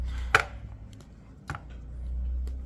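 Two sharp snapping cracks of paraffin wax candles breaking, then a few lighter clicks as pieces drop into a metal pot, close up, with low rumbling background.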